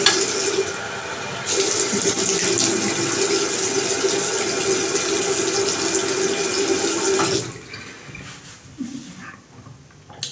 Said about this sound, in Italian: andiamo a bagnarci il viso